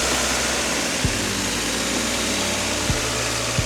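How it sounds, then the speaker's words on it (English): Cheap Honda hatchback engine running after a cold start, a steady close idle hum with a rough underlying buzz and a few brief sharp dips or blips in the rhythm; no talking. "hear out the engine sound if y'all want to hear how the engine sound"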